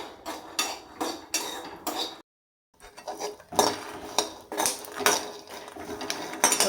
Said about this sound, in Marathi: आणि कमी गॅसवरती शेंगदाणे छान खरपूस भाजून घ्यायचे.